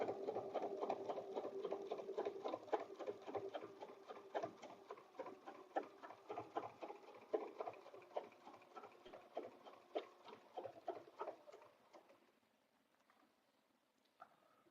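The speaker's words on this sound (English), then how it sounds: "I'm going to stitch over here and then come up." A sewing machine stitches a quilted bed runner along a template in a rapid, even run of needle strokes, then stops near the end and leaves near silence.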